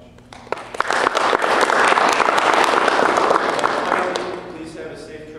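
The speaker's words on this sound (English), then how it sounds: "So big round of applause for all those people." Applause from the audience at a tuba and piano recital builds quickly into a full, steady wash of clapping hands that holds for several seconds before tapering off.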